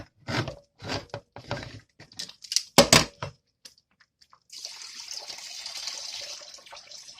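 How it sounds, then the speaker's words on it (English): Liquid poured off a can of mixed vegetables at a camp stew setup, a steady soft splashing trickle lasting a few seconds after some knocks and handling sounds. "Pouring the liquid off of it."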